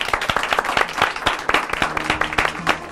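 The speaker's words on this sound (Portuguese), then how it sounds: "Mais um aplauso, gente." A studio audience applauds at a live broadcast, with distinct, uneven individual claps that stay close and fairly loud for about three seconds, suggesting a modest-sized crowd.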